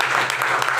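A short burst of loud, dense clapping from a large crowd, steady throughout.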